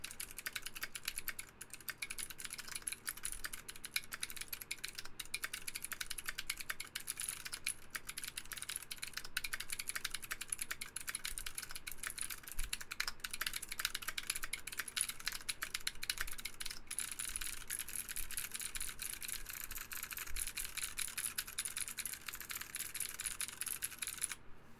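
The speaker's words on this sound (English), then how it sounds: "I don't think you guys even care for typing sounds, but without even plugging it in, it sounds like this." Fingers type steadily on an unplugged mechanical keyboard fitted with MX Blue switches, giving a quiet, continuous stream of crisp clicks with no pauses and no one talking.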